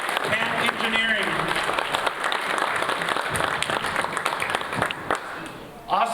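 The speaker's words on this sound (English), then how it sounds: "So please, join me in a round of applause for Wolf Architects and Engineering." Audience applause at a community center ribbon-cutting ceremony for the architects and engineers, a full, sustained round of clapping across the room that fades briefly near the end before a final burst.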